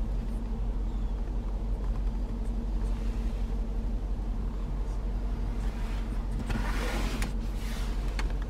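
A 2021 Range Rover Sport P575 SVR with a 5.0-litre supercharged engine idles with a steady, deep exhaust rumble, close and constant, with a brief rise in noise near the end.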